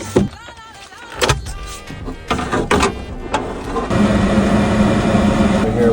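A furnace blower motor in a home heating system, opening with scattered clicks and clatter, then settling into a steady, fairly loud whooshing hum for the last couple of seconds.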